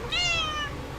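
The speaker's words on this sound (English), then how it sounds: "That's my cat trying to get up on me." A house cat lets out a single drawn-out meow, close and fairly loud, with rising then falling harmonics lasting under a second in an otherwise quiet room.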